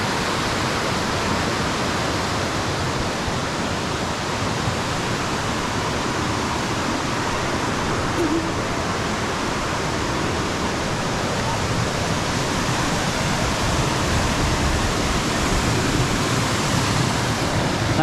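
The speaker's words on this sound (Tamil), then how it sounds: "உடுமலைப்பேட்டையிலேருந்து மூணார் போகிற வழியில் ஃபால்ஸ் சூப்பராக இருக்குது." A waterfall beside the road from Udumalaipettai to Munnar in a quiet, secluded spot, its steady, dense roar of falling water filling the whole stretch evenly and loudly with no voices.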